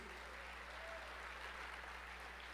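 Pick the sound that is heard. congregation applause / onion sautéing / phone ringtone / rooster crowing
congregation applause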